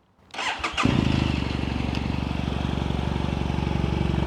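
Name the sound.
BMW F800GS motorcycle starting up with Akrapovic exhaust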